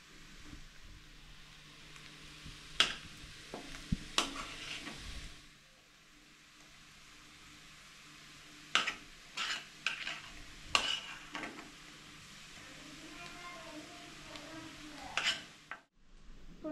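Carrot halwa mixture with khoa and almonds stirred in ghee in a pan, intermittent scraping and clinking of a spoon against metal over a faint low sizzle, quiet and close with no voices.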